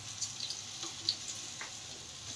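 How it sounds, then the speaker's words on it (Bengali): Raw banana koftas shallow-fry in a pan, giving a faint, steady sizzle with soft crackles and small pops, close by and alone. "এই কোপ্তাগুলোকে ভেজে নেওয়া হচ্ছে। ডিপ ফ্রাই করা হচ্ছে না, শ্যালো ফ্রাই করা হচ্ছে"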